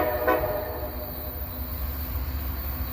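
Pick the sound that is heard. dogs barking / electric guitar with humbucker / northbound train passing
northbound train passing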